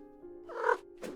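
A cat meows in a video game puzzle adventure, one drawn-out tonal cry rising and fading, followed by a shorter second call, fairly close and clear with no talking over it.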